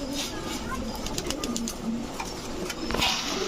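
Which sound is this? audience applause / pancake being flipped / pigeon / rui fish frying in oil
pigeon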